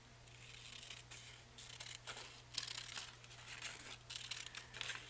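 Scissors snipping through cardboard for a signature journal, a soft, close run of crinkly cuts and rustles, quiet and alone with no voices.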